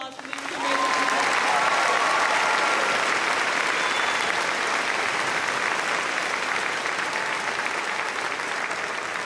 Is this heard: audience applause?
yes